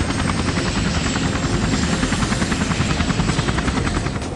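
A helicopter flies steadily overhead on an aerial reconnaissance flight over Angkor Wat, its rotor thumping in a fast, even rhythm that stays loud and close throughout, with no talking.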